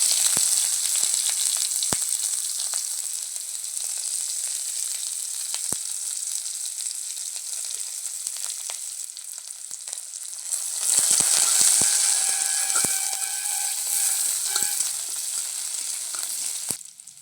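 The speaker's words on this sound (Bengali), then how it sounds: "তো পেঁয়াজটা আমার ভাজা হয়ে গেছে" Onions frying with five-spice seeds in hot oil, a long, even, dense sizzle heard up close that swells louder partway through, with a few faint clicks from the pan.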